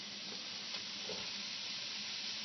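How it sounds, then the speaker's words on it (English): Ginger and half a red Bermuda onion sizzling in a pan, a steady dense frying hiss with no voices. "We have a nice sizzle going here."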